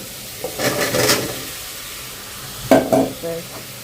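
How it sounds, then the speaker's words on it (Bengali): Spice paste being stirred and scraped in a hot pan, two short bursts of sizzling and spatula rubbing separated by a quiet gap. "মশলাটা কষাই নিলাম তো একটুখানি সবজি দিব এখানে"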